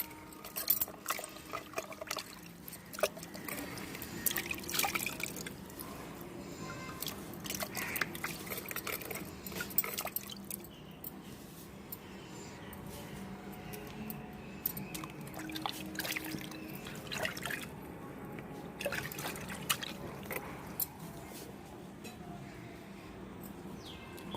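Freshly dug taro tubers being washed in water outdoors, with steady splashing, dripping and trickling throughout and occasional birdsong faint in the background.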